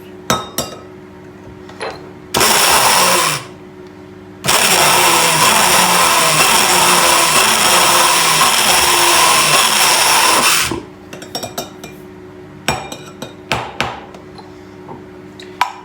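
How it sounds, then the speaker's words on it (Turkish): A blender mixing melted oils for homemade skin cream gives a loud motorized whir in two bursts, a short one and then a long steady spell, with quieter clicks and knocks before and after. "Şimdi onu bir blenderla karıştırıyoruz."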